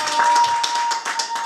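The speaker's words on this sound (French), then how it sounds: "Mesdames et messieurs, on va devoir applaudir pour Juliette Moulopoué." A hall audience at a conference applauds, giving dense, steady clapping close by for a brief stretch, with a faint tone running underneath.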